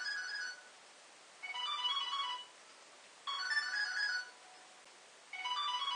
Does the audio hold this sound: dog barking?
no